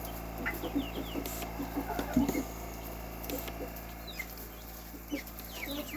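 Chickens and a rooster cluck steadily and repeatedly while being fed, with soft scattered patter and close, moderate-level calls, and people talk briefly.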